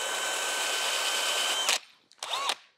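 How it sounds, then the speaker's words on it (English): A handheld drill spins a 180 grit sanding disc against aluminum, giving a steady high whine that stops abruptly, then a short second burst that spins down. "I'm starting with some 180 grit and this is just on a drill."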